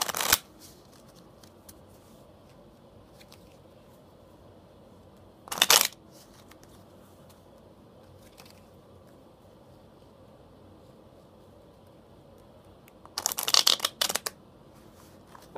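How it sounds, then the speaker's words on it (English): A deck of playing cards is shuffled in brief riffling bursts, one at the very start, another around six seconds and a longer double burst near the end, close and crisp against quiet room background. "This time, I'll shuffle the cards a couple times."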